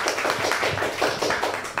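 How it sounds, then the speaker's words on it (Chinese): An audience breaks into applause to welcome a speaker, Remy, to the stage at a talk on AI in e-commerce. The clapping is dense and steady throughout, close and fairly loud, with no voices over it. "一样借由各位的掌声，我们欢迎 Remy 的分享"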